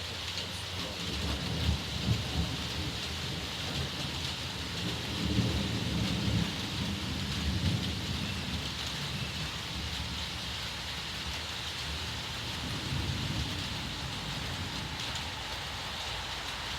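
Summer thunderstorm rolling in, with steady rain falling on surfaces throughout and low rumbling thunder swelling and fading in the distance, fairly faint overall.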